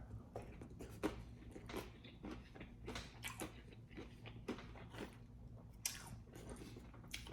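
Close, quiet chewing of a Russian assault ration vegetable stew with a little beef, with soft squishy bites and mouth sounds repeating irregularly.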